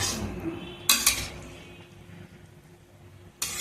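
Chicken biryani being stirred in a pot after yogurt is added, with a few metallic scrapes and clinks of a spoon against the pot over a low background of cooking noise.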